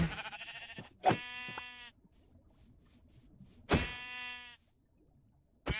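Sheep in the Minecraft FTB Pyramid Reborn modpack give two clear, close bleats a few seconds apart, each a short wavering cry, with quiet gaps between.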